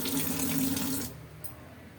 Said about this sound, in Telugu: వాటర్ ట్యాప్ ఉంటుంది కదా, కొన్ని వాటర్ తీసుకొని ఇక్కడ పోయాలి.